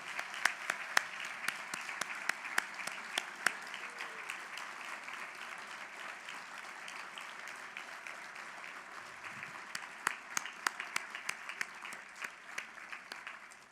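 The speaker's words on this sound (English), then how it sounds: "Let's give a round of applause for all of the wonderful county honorees." Audience applause for county honorees at a university harvest bowl banquet, a soft, sustained patter of many hands, distant and even, with sharper nearby claps popping out now and then.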